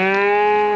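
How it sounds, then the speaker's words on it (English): A single close, loud cow moo, sustained and tonal, from cattle drinking at a pond on a large summer range. "You can see the cows all getting a drink."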